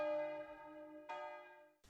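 An old church bell hung in a wrought-iron campanile, in place since 1623, rings with a rich sustained metallic tone; one stroke decays slowly before a second strike and the start of a third, heard alone.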